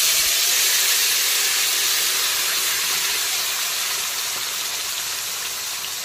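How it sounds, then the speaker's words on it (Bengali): Finely ground fried spice paste hitting hot oil in a kadai, a loud, dense, steady sizzle that fades slightly over six seconds, with no one talking. "এখন সমস্ত ভাজা মশলার মিহি পেস্ট আমি দিয়ে দিচ্ছি কড়াইতে"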